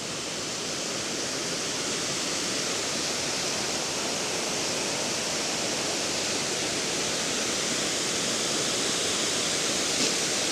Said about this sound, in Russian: Сейчас покажу вам водопадик.